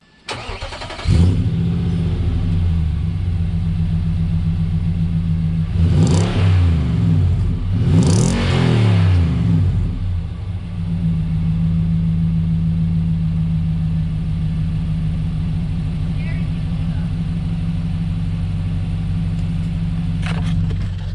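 A Nissan Patrol with a newly fitted exhaust cranks and fires up, then revs hard in a couple of rising bursts before settling into a steady, deep idle, close and loud.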